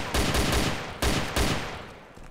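Gunfire in the DayZ video game, with several sharp, loud reports fired in quick bursts that each fade into a short echoing tail, heard without talk.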